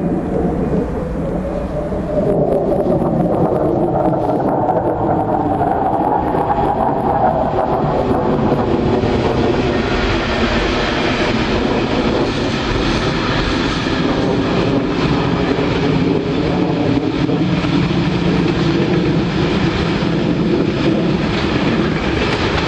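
A train cruises steadily past Werrington Junction on its way to King's Cross, a loud, continuous rumble and wheel roar close by, with broadband wind-like noise building through the pass and no talk.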